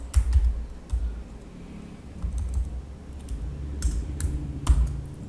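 Keys clacking on a computer keyboard at a desk, in short irregular bursts of close, crisp taps separated by brief pauses.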